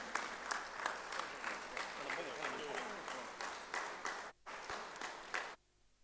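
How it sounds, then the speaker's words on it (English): Conference audience applauding for a birthday at a state union meeting, steady clapping from a crowd in a hall that fades out abruptly near the end. "Let us all give our choices to wishes in the form of applause"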